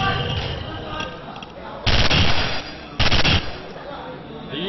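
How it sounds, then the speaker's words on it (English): Gunfire in Counter-Strike Online, shots fired through walls in bursts, two loud bursts of rapid shots standing out over ongoing game noise, with commentators talking. "The usual wall bangs"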